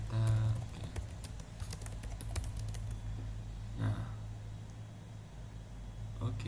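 Computer keyboard typing as a name is entered, a quick run of soft clicking keystrokes up close, with a few isolated taps later and a speaking voice over part of it.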